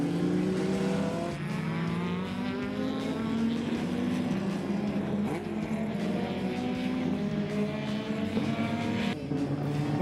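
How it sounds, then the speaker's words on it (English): A race car on a hill climb track accelerates away, its engine note climbing steadily through the gears, loud and sustained with no talk over it. "and Scribante accelerates away"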